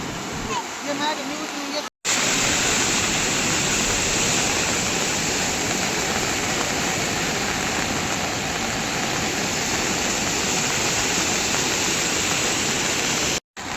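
Waterfalls in the Sahyadri hills run full during heavy monsoon rain, giving a loud, steady, dense roar of rushing water that fills the whole stretch, broken only by two very brief cuts.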